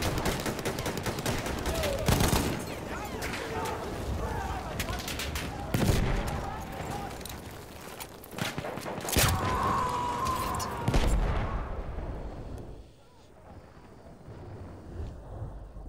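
Gunfire bursts and a grenade blast in a war video game, loud repeated shots with a heavy boom near the end before a sudden quieter tail, with voices talking over the action.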